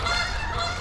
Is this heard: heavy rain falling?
no